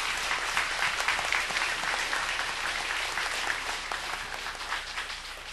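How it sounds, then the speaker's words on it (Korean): A church congregation applauds an orchestra and choir after Sunday worship, a dense, sustained wash of clapping from many hands that stays loud and even throughout. "우리 찬양에 함께한 우리 오케스트라와 우리 모든 대원들의 힘찬 박수로 한번 청해드리겠습니다"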